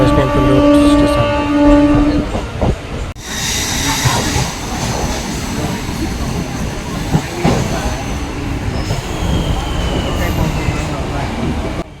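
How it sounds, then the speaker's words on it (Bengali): A passenger train from Jaleswar to Puri runs at speed near Lingaraj Temple Road station, giving a loud steady rumble of wheels and carriages throughout, with a brief horn-like tone at the start. "জলেশ্বর থেকে ছেড়ে এসে এই ট্রেন কিন্তু প্রতিদিন রওনা দেয় পুরীর উদ্দেশ্যে।"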